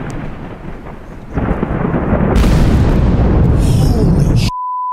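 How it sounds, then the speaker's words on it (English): Thunder from a lightning strike less than a mile away cracks and rumbles loudly under a dark, heavy sky beside a winding road in the Redwood National and State Parks forest, swelling into a long roar that cuts off abruptly. "Lightning!"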